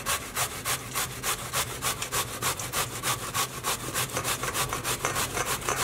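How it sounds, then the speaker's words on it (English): Zucchinis are grated on the coarse side of a grater, making a brisk rhythmic rasping of quick regular strokes, close and steady. "we want to grate all of our zucchinis on the coarse side"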